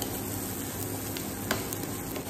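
Onions, ginger and green chili frying in ghee, a steady close sizzle with faint stirring clicks throughout.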